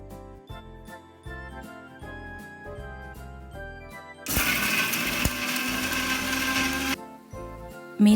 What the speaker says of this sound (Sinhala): අනෙකුත් අමුද්‍රව්‍ය ටික මම බ්ලෙන්ඩ් කර ගන්නවා